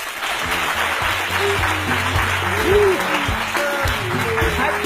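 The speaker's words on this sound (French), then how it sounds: "Applaudissez pour lui." Audience applause rolling steadily throughout, a dense clapping wash with music and voices mixed in beneath it.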